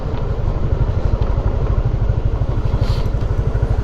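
A motorcycle heads slowly down a steep path, its engine putting out a loud, steady low thrum with rapid pulsing throughout and no break.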